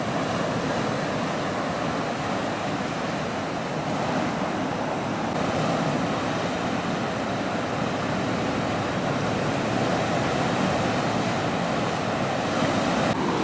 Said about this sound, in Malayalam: ഇഞ്ഞ് വരെയൊക്കെ നല്ലതുപോലെ തിര അടിക്കുന്നുണ്ട് കേട്ടോ